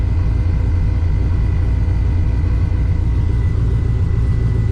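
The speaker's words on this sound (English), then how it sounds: "You can hear the fans kick on because the water pump bogged down for a second in the back." A car engine idles with a loud, steady low rumble and a constant whirring hum from cooling fans that kicked on after the water pump briefly bogged down.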